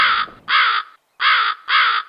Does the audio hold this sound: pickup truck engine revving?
no